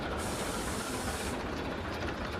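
A ChME3 diesel locomotive brakes with a sharp burst of air hissing for about a second, over the constant rumble of its running engine.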